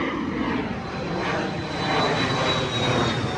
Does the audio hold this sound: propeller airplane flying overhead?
yes